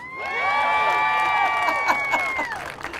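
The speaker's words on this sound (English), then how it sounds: "So I told them when I said Val Verde, they had to cheer." Schoolchildren from Val Verde cheering at a park re-opening, a loud burst of high-pitched shouts and whoops that swells and then trails off into scattered yells and a few claps.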